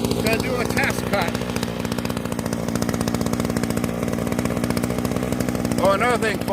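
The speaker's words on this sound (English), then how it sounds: "Gonna do a test cut." A Radley weed eater running during a test cut, a loud close buzzing engine that rises and wavers briefly near the start and end.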